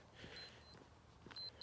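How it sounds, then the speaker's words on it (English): A phone alarm beeps in short, repeated high electronic tones, two quick pairs with a pause between, faint and thin over a quiet room. "Hang on, my fucking alarm went off."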